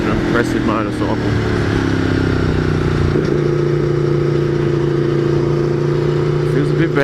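Aprilia Tuono V4 1100 Factory motorcycle being ridden, its engine a loud, steady close-up drone that shifts pitch partway through as the rider changes throttle.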